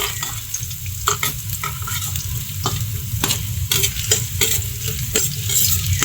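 Chopped onion and ginger sizzle steadily in a hot pan while a spoon scrapes and stirs through them in repeated strokes, close and fairly loud, with no talking.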